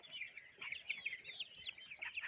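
Young chickens chirping and clucking in a steady, busy chorus of high peeps, close by and continuous with no talking.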